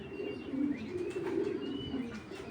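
Pigeons in a breeder's loft give soft, low, rolling coos, close and continuous, with faint chirps and the occasional rustle of wings.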